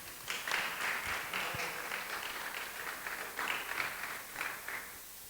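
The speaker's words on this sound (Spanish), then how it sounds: "Un aplauso a mi secretaria, por favor." A church congregation applauds during a sermon. The clapping is moderate and swells and eases in waves over about five seconds, with a couple of soft thumps near the start and no speech.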